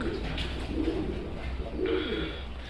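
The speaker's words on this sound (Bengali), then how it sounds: "ওর কাছে প্রচুর কবুতর আছে চাইলে নিতে পারবেন অনেক কবুতর আছে" Soft, throaty highflyer pigeon coos repeat in low pulses against a steady background hum on a pigeon farm, fairly faint and with no talking.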